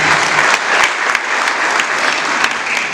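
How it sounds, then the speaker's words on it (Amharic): An audience applauds at a talk, a dense loud burst of clapping that carries on steadily for several seconds. "አጨብጭቡለት።"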